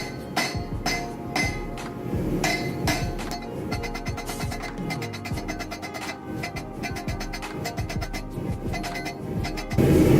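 A hammer strikes hot leftover steel stock while forging a knife, a brisk run of sharp metallic clinks and ringing blows in uneven rhythm, close and fairly loud, with no voices.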